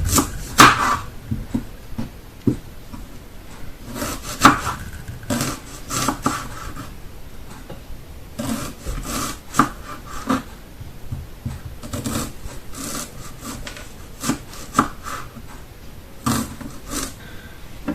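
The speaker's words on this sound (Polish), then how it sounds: "cebulę kroimy pół plasterki" Kitchen knife slicing onion into half-rings on a cutting board, heard as a sequence of short, crisp chopping taps at an uneven rhythm, close and clear, with no talking.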